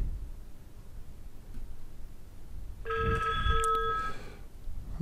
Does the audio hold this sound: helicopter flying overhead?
no